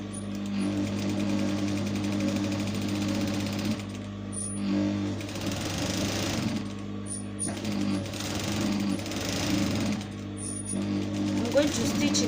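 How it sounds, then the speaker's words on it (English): A sewing machine runs steadily, stitching fabric for a bonnet, its rapid mechanical chatter continuous and close, pausing briefly a few times before starting again. "So let's stitch. I'm going to stitch all round."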